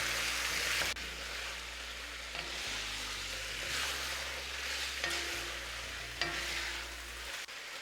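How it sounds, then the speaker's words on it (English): Beef stirred and fried in perfumed ghee in a pan, a steady close sizzle broken by scraping stir strokes every second or so, with no talk. "start stirring to coat your beef with the perfumed ghee."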